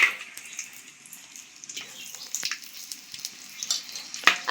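Cinnamon and other whole spices crackle in hot oil for a biryani, sharp bright sputters and pops over a thin sizzle, close and uneven with a few louder bursts.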